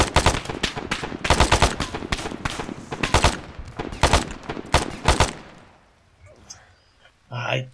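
Rapid bursts of rifle gunfire in the ArmA 3 military shooter, loud close semi-automatic shots fired in quick runs with brief pauses, fading into quieter distant sounds near the end.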